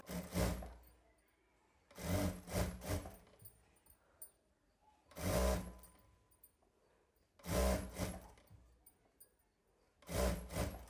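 Electric sewing machine stitching the folded edge of a fabric pillow cover, running in four separate bursts of a second or so each with quiet pauses between them, close and fairly loud.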